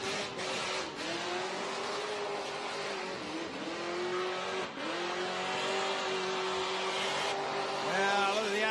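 Car engine revving hard through a burnout skid at Summernats, a loud sustained high-RPM roar with pitch rising and dipping over tyre noise, crowd and commentary faintly mixed in.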